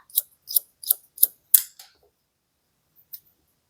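Hair scissors cutting a man's medium-length hair at a salon: five crisp snips in a quick, even rhythm, then a pause and one faint final snip, close and clear with no talking.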